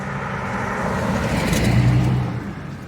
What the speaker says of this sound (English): Oh, here comes a car.